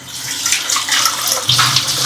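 Water runs steadily from a kitchen tap while a kitchen gadget is rinsed under it, a continuous close splashing hiss that grows a little heavier partway through, with no talking.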